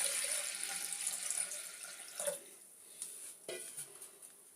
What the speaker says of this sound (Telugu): ఇప్పుడు నీళ్ళు పోద్దాం.